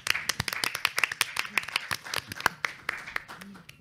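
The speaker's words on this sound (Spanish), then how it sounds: "por favor, también un gran aplauso para él." Audience at a panel conversation clapping for a speaker, a lively burst of many close hand claps of uneven rhythm filling the room.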